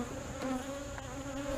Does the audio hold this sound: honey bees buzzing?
yes